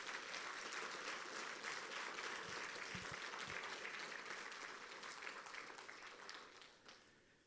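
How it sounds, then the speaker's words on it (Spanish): A church congregation applauds together at a Spanish-language Christian sermon, a dense, steady wash of many hands clapping that holds for several seconds and starts to taper toward the end. "¿Cuántos le damos un fuerte aplauso a Dios por esta palabra?"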